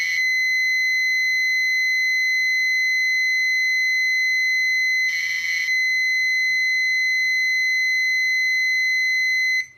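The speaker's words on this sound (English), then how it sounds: "this awful sound you hear is the audio" Program data from an MT-80AZ trainer being dumped as audio tones: a loud, steady high-pitched tone runs almost the whole time, broken by a short burst of harsh modulated noise midway, with no voices.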